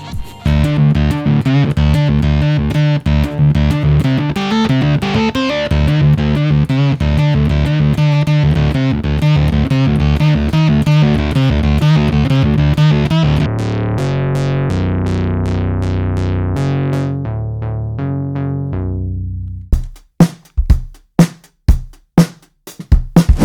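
The Black Diamond Distortion plugin plays a heavily distorted, gritty musical passage loudly, which then thins into sustained notes and ends with a few sharp, chopped hits.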